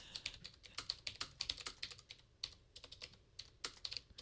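Keys clatter in quick irregular bursts on a keyboard used with a tablet app, close and faint with short pauses between runs of taps.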